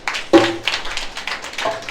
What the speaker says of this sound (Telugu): చప్పట్లు కొడదామని.